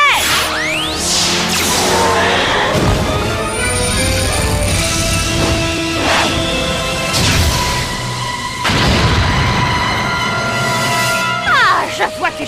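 Cartoon fire bomb attack striking an earth barrier in Dinosaur King, loud whooshes, booming impacts and crashing hits over a dramatic music score, with voices shouting across the action.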